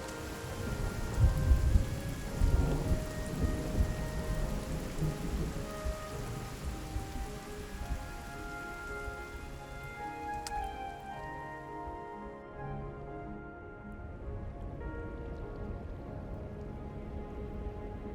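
Steady cold rain falling on a Himalayan mountain slope with a soft continuous patter, low rumbling thunder in the background, no voices.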